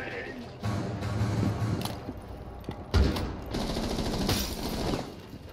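Rapid gunfire bursts in the shooter game Rainbow Six Siege, loud and close, rattling in several volleys with a sharp shot near the middle, under excited player talk.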